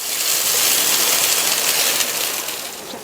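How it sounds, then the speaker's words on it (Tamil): Water boils vigorously in a pot, a steady, close, broadband rushing bubble that holds level throughout and eases slightly at the end, with no talk. "இப்போ தண்ணி நல்லா கொதிக்குது."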